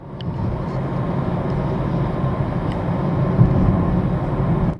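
Nissan Leaf electric car cruising at speed, a steady broadband road and tyre rumble with wind noise, continuous and fairly loud from inside the cabin, no voices.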